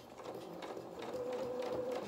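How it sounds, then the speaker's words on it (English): Sewing machine stitching along the edge of a fabric Luna Lapin cat's head, a quiet continuous hum with a faint steady tone, running alone throughout. "now we can start and sew along here"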